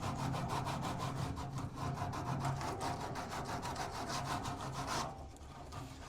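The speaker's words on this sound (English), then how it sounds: "we need to make it as clean of a surface as we can, and we've got some sandpaper to kind of clean it all up" Sandpaper scuffs the surface of an aluminum auxiliary fuel tank for a Duramax truck in quick, rhythmic back-and-forth strokes, close and steady for about five seconds before easing off into quieter rubbing.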